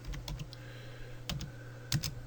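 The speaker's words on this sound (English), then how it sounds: "you can just type your written notes over here" Close keystrokes on a computer keyboard as notes are typed, with a few scattered clicks, then brief bursts of taps separated by pauses, quiet and alone.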